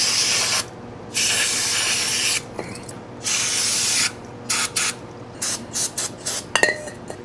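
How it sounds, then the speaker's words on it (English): Brake cleaner sprayed onto wheel bearings from a 1959 Ford Fairlane 500: several hissing aerosol bursts, long at first and then shorter and choppier, with faint metallic clinks near the end. "Get some brake clean, spray them out"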